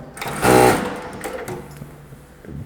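A FULIAN M33-D5 sewing machine with a soft start runs briefly, its motor swelling into a loud whirring stitch burst, then easing back to a quieter hum with light clicks.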